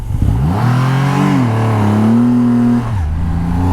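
A Triumph Rocket 3 GT, a very large motorcycle, accelerates hard in a single gear, its engine note climbing and holding steady before dropping off; loud, close and continuous, with no talk over it.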